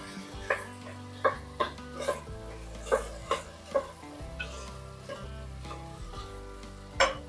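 Washed rice tipped into a hot pan of cauliflower and stirred for a cauliflower rice dish, giving repeated scraping stir strokes over a steady sizzle, close and moderately loud, with no voices.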